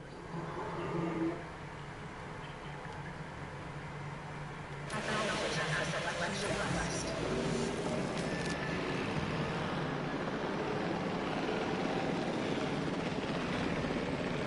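A helicopter airlift in the Jurassic World Evolution dinosaur park video game drones with a rotor hum that swells and grows louder midway, sustained and dense under game ambience.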